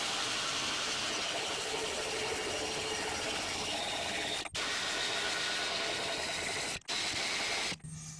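A ratchet tightens the front hub nut on a Ford Focus during a wheel bearing replacement, giving a steady close mechanical whirring clatter broken by three brief gaps, with no talk.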